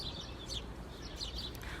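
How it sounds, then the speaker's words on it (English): A sparrow chirps outdoors near shrubs and trees, a series of quick bright tweets repeating irregularly, moderately close but soft, alone without talk. "It's a sparrow chirping away."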